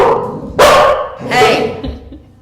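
Service dogs in training bark nearby, two loud, harsh barks about three quarters of a second apart followed by a fainter yip and whimpering noise, with no speech over them.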